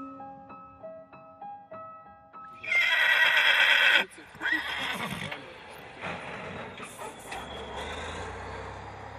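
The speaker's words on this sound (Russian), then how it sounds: "А здесь лошади будут есть." Horses neighing and whinnying at a rural stable, with hoof clip-clop and a loud rumbling burst midway; the sounds are fairly close and mixed with background noise.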